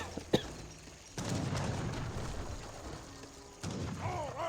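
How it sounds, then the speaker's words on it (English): Heavy cannons fire a volley in Age of Empires 3, heard as a sharp early bang followed by a dense rumbling stretch of booming impacts and thuds, then a second burst near the end, moderately loud. "Great volley there by the heavy cannons."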